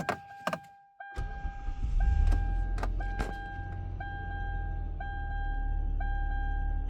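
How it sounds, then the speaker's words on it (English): A Hyundai Santa Fe engine cranks and fires on its first start after timing belt and water pump work, then settles into a smooth idle while repeated warning chimes sound inside the car. "Alright, first start in the Santa Fe."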